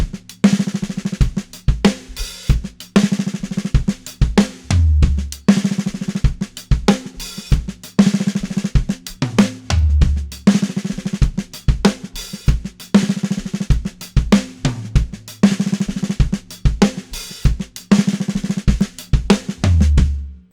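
A drum kit groove that opens on a collapsing roll, played in repeating bars with steady kick and snare hits and busy cymbal work throughout, loud and close.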